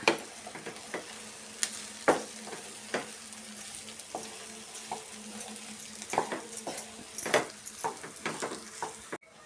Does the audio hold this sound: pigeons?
no